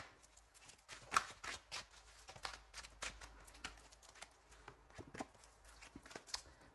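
Tarot cards are shuffled for a reading in soft, quick riffling bursts and taps, faint and close in a quiet room.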